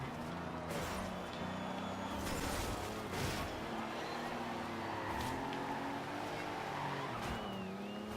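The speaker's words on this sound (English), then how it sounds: "I am drifting and stuff way too much in this." A muscle car drifts around a racing course in the video game Forza Horizon 2, its engine revving and tires squealing continuously as it slides through corners, loud and close with no voices.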